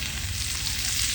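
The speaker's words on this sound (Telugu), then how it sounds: "కరివేపాకు, మిక్సీ కొట్టిన మసాలా అయితే వేసింది అనమాట." Curry leaves and ground masala fry in hot oil in a pan on a village stove, giving a loud, steady, close sizzle that runs without break and without any talk.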